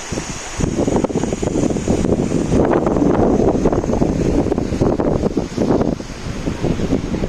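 Steady wind buffeting the microphone at a hanging bridge in a butterfly garden at Thumboormuzhi, Ezhattumugam, Kerala, a loud broadband rush that gusts and swells throughout with no voices.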